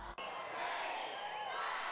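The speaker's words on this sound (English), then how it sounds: "crowds gathered in shopping centers, parks, and entertainment areas to usher in the new year with high hopes" A large crowd celebrating the new year in Beijing, China, in shopping centers and parks, makes a loud, continuous wash of cheering and chatter, with a narrator's voice heard over it.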